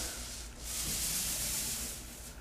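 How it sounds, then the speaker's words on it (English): A paint roller back-rolls paint over a sheetrock patch in smooth, even strokes, giving a steady, close, soft rubbing swish that swells and fades with each pass, with no talking. "Once I get the paint on there, I want to just back roll. Nice even strokes."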